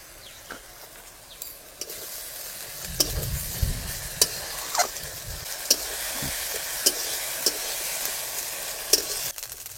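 Ginger-garlic paste frying in hot oil with already-fried onions for a restaurant-style duck curry, with a steady sizzle and crackle, a denser burst of frying near the start, and sharp clicks of a spoon stirring against the pan at intervals.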